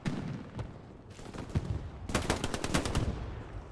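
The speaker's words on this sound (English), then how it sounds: "Guns him right down in the back." Automatic weapon fire in Hell Let Loose during a 49v49 competitive match in Carentan: loud, close bursts of rapid shots, the longest and densest volley near the end, over a steady battlefield rumble with no voices.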